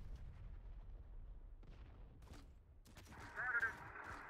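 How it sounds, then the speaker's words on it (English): Artillery rounds fire in the game Terminator: Dark Fate Defiance during a 2v2 multiplayer match: several faint, dull booms come in short bursts, with a sustained tonal effect rising near the end. "Oh, here's artillery. I'm gonna shoot that blindly."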